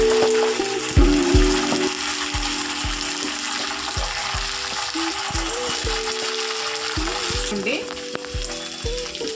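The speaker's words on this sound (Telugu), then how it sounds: "దీన్ని కూడా పచ్చివాసన పోయేంత వరకు ఫ్రై చేసుకుందాము." Ginger paste and onions frying in a pan before chicken goes in for fry piece biryani, with a loud continuous sizzle and repeated scraping stirs at a regular rhythm, close up and without speech.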